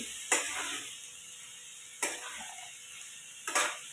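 Vegetables being sautéed in oil with turmeric and ginger-garlic paste, three separate bursts of stirring and scraping, each followed by a soft sizzle that fades between them.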